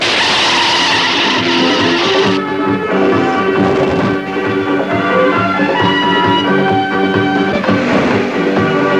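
A car driven fast in a 1985 film scene, its engine roaring loudly with sustained tonal tire screeches and skidding whines layered over a continuous motor drone.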